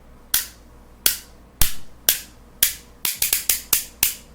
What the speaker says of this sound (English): goes all the way around on that loud ratchet